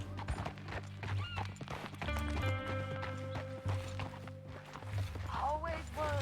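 Horse hooves clip-clop at a steady trotting rhythm in the open-world western game Red Dead Redemption 2, layered over a sustained musical score and ambient game sound.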